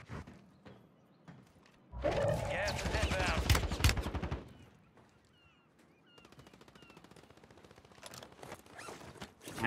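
Rapid machine-gun fire in Warzone, a dense, loud burst lasting a couple of seconds, followed by scattered quieter shots and game sounds, with a voice talking faintly at times.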